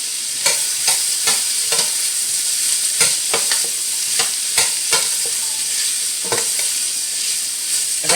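Green peppers and onions sauté in olive oil and are tossed around the pan: a bright, close sizzle punctuated by frequent sharp scraping strokes in an uneven rhythm, heard alone without talk.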